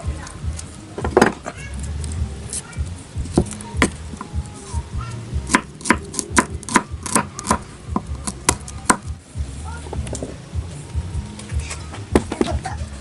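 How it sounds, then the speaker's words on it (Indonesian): Garlic cloves being peeled by hand, a series of sharp cracks and crackly snaps at irregular intervals over a quiet room background, close and fairly loud. "Namun bawang putih ini kita kupas dulu pada kulitnya Sobat Tani."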